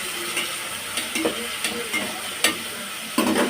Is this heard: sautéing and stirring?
yes